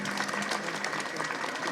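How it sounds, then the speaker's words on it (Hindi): A crowd at a political rally in Okhla, Delhi, claps steadily, a dense, even wash of applause that holds for the whole moment without pause. "एक बार अशोक नेता अंकल के लिए ताली बजा दें भैया।"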